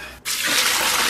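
Water pours into a cooking pot holding a pig's head for stewing, a sudden steady gushing rush that starts after a brief quiet moment.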